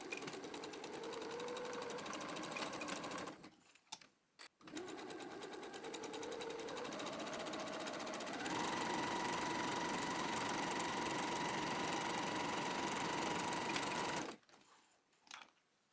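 A sewing machine stitches a zigzag seam on a workout dress, running close and steady in long stretches with two brief stops and a higher, faster run near the end.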